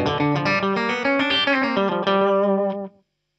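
Electric guitar plays a fast country lick in G built on an open-string banjo roll, with rapid cascading notes through an effects unit with distortion and reverb for about three seconds, then it stops cleanly.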